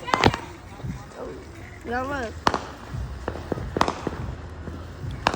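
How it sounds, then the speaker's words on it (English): Fireworks popping outdoors in a few sharp, separate cracks spread across the stretch, with excited voices talking and exclaiming between and over the bangs. "Oh, they fireworks. Popping."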